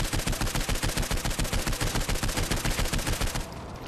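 Rapid automatic gunfire from the video game Saints Row 4: loud, close, evenly spaced bursts rattle without pause for about three and a half seconds, then cut off into a quieter tail.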